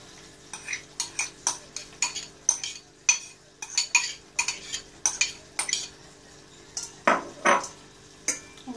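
Boiled macaroni stirred with charred onion and squash in a pan, a utensil scraping and clinking against the metal in repeated short strokes, close and clear with no talking.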